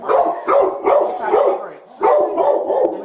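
A dog barks repeatedly and loudly nearby in a tense police encounter, giving a series of rapid, agitated barks in two bursts with a short pause between them.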